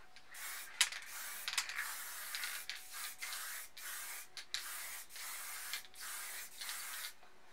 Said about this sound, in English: with the white, we'll just spray